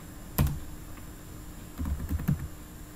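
Key presses on a computer keyboard as a Java command is typed, a single clack followed by a short burst of several quick keystrokes, close and fairly quiet with no talking.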